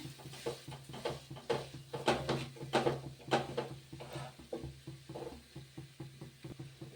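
A mixture is stirred and roasted in a pan over a gas flame, a soft, rhythmic scraping of the spoon about twice a second over a faint sizzle, close and quiet, with nobody talking.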